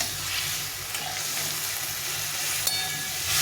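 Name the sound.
tomatoes frying in a pan while being stirred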